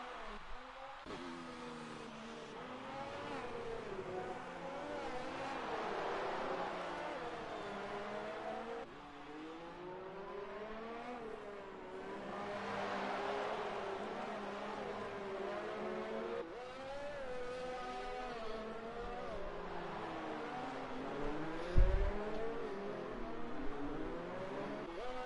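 Race car engines roar and whine through gear changes in a sim racing game at a wet Singapore race, rising and falling over and over, with a brief low thump near the end.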